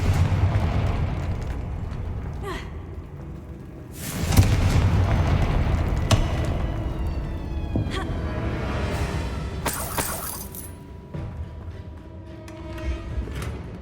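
Confringo blasting spell explosions in Hogwarts Legacy, a deep booming blast with a rumbling tail over steady game ambience, followed by more crackling impacts and bright magical flares.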